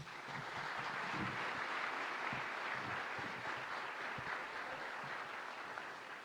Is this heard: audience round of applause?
yes